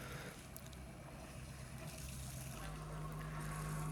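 Boat engine leg on a vessel out of the water spitting cooling seawater, a steady gushing trickle over a low engine drone, with a rise in pitch partway through; close and moderately quiet.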